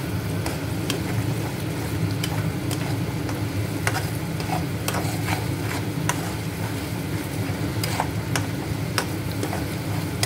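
A paste of onion, garlic, ginger and tomato sizzles steadily in a pan while being stirred, giving a continuous close frying hiss punctuated by sharp ticks and scrapes of a utensil.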